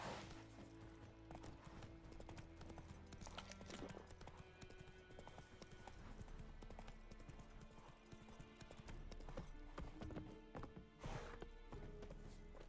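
Roach the horse gallops in The Witcher 3, with steady rapid hoofbeats clip-clopping throughout over game music and ambience, and an occasional whinny or snort.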